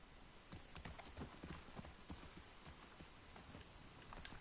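Horse hooves clip-clop steadily in The Last of Us Part II, a brisk, continuous rhythm of close hoofbeats on hard ground with no voices.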